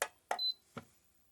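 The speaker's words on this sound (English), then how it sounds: "It's beeping, tell you it's ready." An AKEYDIY auto hat heat press machine for caps beeps when ready, set to 365 Fahrenheit: a few short electronic beeps close by, one held briefly, in a quiet room.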